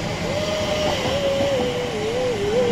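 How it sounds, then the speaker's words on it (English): Train pulling into a London station, a steady loud rumble with a sustained whining tone, heard throughout without talk. "Oh, this is our train"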